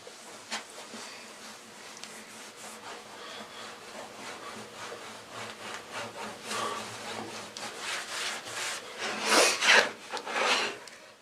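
A cloth rubs linseed oil into a wooden cutting board in steady back-and-forth strokes, a soft dry scrubbing that grows louder and more vigorous toward the end.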